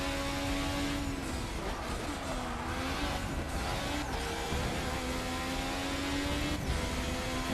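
An IndyCar engine in the Forza 6 racing game at Watkins Glen drones continuously at high revs, its pitch rising and dipping through gear changes and corners with a steady roar throughout.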